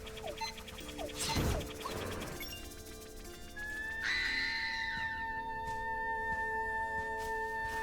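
A monster in the video game Echoes of Wisdom lets out a harsh scream, first as a loud burst and then as a wavering, rising cry layered over sustained game music tones.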